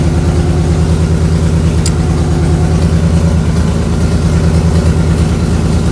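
A BMW E30 engine idles steadily, its speed held by the driver's foot on the throttle rather than the idle control, giving a loud, continuous low rumble with a slight uneven pulse and no speech.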